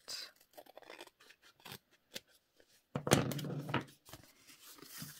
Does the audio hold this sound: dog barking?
no